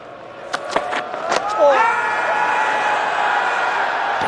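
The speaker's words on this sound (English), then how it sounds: "He's got a lovely ovation from the crowd." Spectators at Lord's during an Ashes Test between Australia and England break into applause after a few sharp claps and thuds, then a sustained, distant ovation swells and holds steady, with a commentator's voice running over it.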